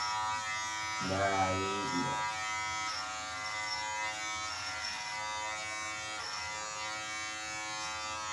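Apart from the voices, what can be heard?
electric hair clippers cutting a buzzcut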